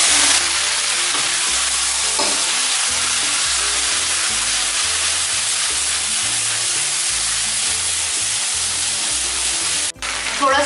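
Rice stick noodles stir-fry over high heat with a steady, loud sizzle and repeated scraping and tossing in the pan, running continuously with a brief dip near the end.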